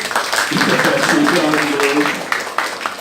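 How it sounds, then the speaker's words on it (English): Classroom audience giving a burst of applause, a dense patter of clapping hands with voices talking and calling out over it. "Give applause, please."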